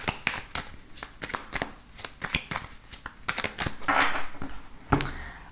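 Tarot cards shuffled by hand in a run of crisp, rapid riffles and slaps, close and fairly loud, with a denser burst of shuffling near the end and no one speaking.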